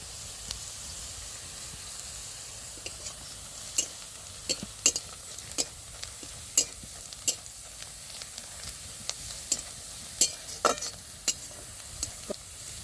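Bitter melon fries in a pan with chili powder as it is stirred, giving a soft continuous sizzle broken by irregular sharp scrapes and clicks of the utensil against the pan.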